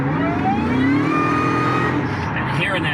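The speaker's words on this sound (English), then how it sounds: "hit this pedal and hearing that supercharger whine" A 2001 Ford F-150 SVT Lightning accelerating hard, its supercharger whine rising in pitch over a loud engine roar, with a voice audible briefly near the end.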